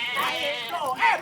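A goat bleats in a wavering, nasal tone during a Betawi lenong comedy stage show. A longer cry rises near the end, with voices present.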